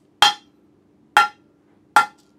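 Three sharp, evenly spaced hammer strikes smashing an SD card, each a crisp bang that quickly decays, with quiet in between.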